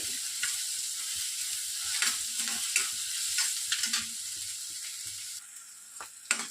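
Chopped onions frying in hot oil until golden for a curd okra curry, a steady close sizzle broken by frequent scraping stir clicks and clatters, with no talk.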